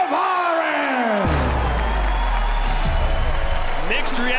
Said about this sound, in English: Mixed reaction from this crowd.